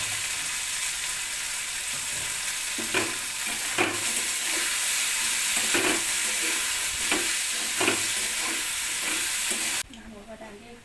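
Red amaranth stem curry sizzles steadily in a pan as a spatula stirs it in repeated scraping strokes, loud and close, with the sizzle dropping away abruptly near the end.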